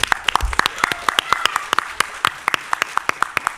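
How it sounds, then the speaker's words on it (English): A convention panel audience applauds a guest with rapid, crisp claps close by, a few distinct hands standing out at a steady rhythm across the whole stretch. "can everyone give Scott a round of applause?"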